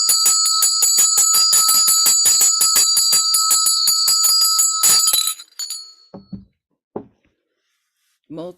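A ritual bell rings rapidly and steadily during Buddhist practice at a Dalai Lama birthday celebration, bright and loud, then stops abruptly, leaving a few scattered soft sounds.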